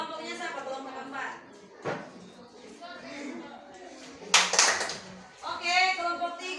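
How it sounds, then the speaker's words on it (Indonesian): Students applaud a group during a school PE lesson on short-distance running. A brief burst of hand clapping rises amid children's chatter and an adult's voice in a lively classroom setting. "Tepuk tangan untuk kelompok 3."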